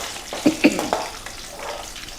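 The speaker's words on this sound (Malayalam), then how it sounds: "നന്നായിട്ട് കറിവേപ്പിലയും ഒക്കെ നന്നായിട്ടൊന്ന് വഴണ്ട് ഇതാവട്ടെ" Curry leaves sautéing in a frying pan for a Kerala yam curry, a soft sizzle with a few sharp spatula clinks and stirring scrapes early on, then a quieter hiss.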